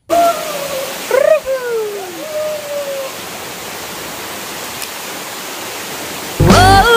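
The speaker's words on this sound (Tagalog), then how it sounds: "So finally na nami diri sa my falls number 3." A waterfall gives a broad, steady rushing roar throughout, with voices and brief whistling tones over it early on and a louder burst of sound at the end.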